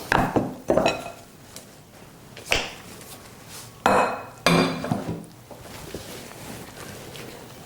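Easter bun dough with stout being folded with flour in a mixing bowl, heard as irregular knocks and scrapes of a utensil against the bowl, close by, with quieter stretches between.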